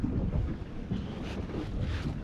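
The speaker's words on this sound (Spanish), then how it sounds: "Ahí está cerca varias lanchas." Motorboats cruise on the water near a dam on a river at Concordia, Argentina, heard as a steady low engine drone mixed with wind buffeting the microphone and lapping water, with no talking.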